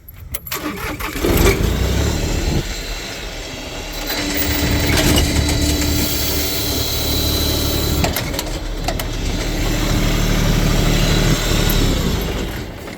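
A tractor backhoe's engine cranks and catches, then settles into a rough, rumbling idle close by, swelling and easing slightly as it runs.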